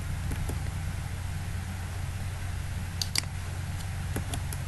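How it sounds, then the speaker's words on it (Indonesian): A few sparse keystrokes tap faintly on a computer keyboard during a Debian 8.5 login, scattered over a steady low hum with no talking. "Selanjutnya kita akan login dengan mengetik"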